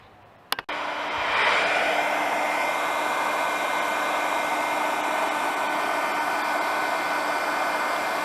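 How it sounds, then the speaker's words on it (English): Heat gun aimed at the piston rings of a Honda CT90 engine during a rebuild: a click, then a sharp switch-on followed by a loud, steady blowing whir with a constant hum, close by and unbroken. "I'll try hitting them with the heat gun, see if that works."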